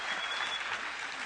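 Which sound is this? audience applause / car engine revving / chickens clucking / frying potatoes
audience applause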